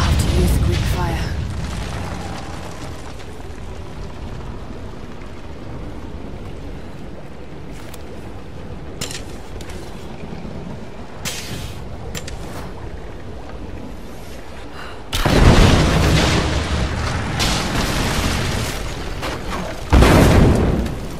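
Greek fire vessels in the Rise of the Tomb Raider video game burst in loud, deep booming explosions with crackling roar, one long blast followed by a second shorter burst, over a background of game ambience and rumbling.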